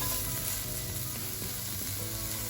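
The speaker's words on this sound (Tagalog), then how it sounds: "i-saute lang po natin ang mga onion" Onions sautéing in a pan for Korean japchae make a continuous soft sizzle and frying crackle, with faint stirring scrapes and no voices.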